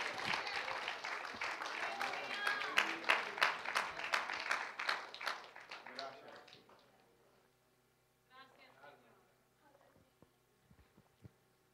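Church congregation applauding, a dense run of many hands clapping that fills the room for about six seconds, then fades to scattered faint claps and quiet.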